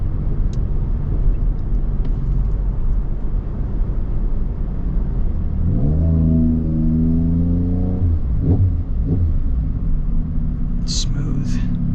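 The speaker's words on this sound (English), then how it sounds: "This is the best driving 4Runner by far." A 2026 Toyota 4Runner TRD Pro heard from inside while driving, with a steady low engine and road rumble throughout and a rising engine tone partway through, loud and close, with voices over it.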